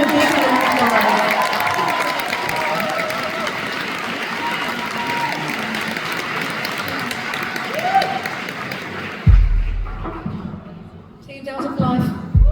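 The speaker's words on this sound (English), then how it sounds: "So give him a big round of applause." Concert crowd in London applauding and cheering for a guest singer, a sustained roar of clapping and voices that cuts off abruptly near the end, followed by a few loud thumps and scattered noise.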